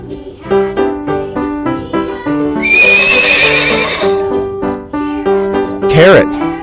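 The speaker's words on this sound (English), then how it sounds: "Horse." A horse whinnies in a long, shrill neigh over cheerful children's music, followed by a shorter snort-like call near the end; close and loud.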